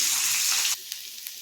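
A fish head frying in a pan sizzles loudly and close, then the sizzle suddenly drops away halfway through, leaving only faint clicks and spatters.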